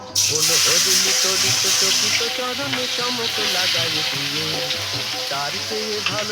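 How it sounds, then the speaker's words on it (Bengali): Sliced onions fry in hot oil for beresta, a loud, dense sizzle with stirring scrapes throughout and a voice talking over it at times. "এখন আমি পেঁয়াজটাকে বেরেস্তা করে নেব"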